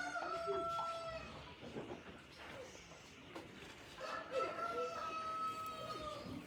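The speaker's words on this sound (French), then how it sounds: "les poules vont bien." Chickens cluck and a rooster crows in a farmyard, with two drawn-out crowing calls and scattered clucks at moderate distance over faint background noise.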